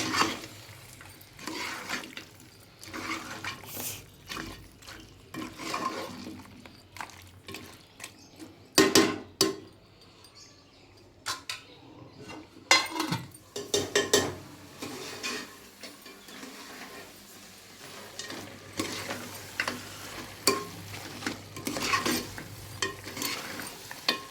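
Tomato and chili powder frying in a pan for mutton curry with fenugreek leaves, soft sizzling broken by repeated scraping and stirring strokes, close and moderately loud, with a brief pause midway.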